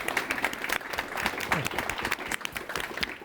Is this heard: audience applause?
yes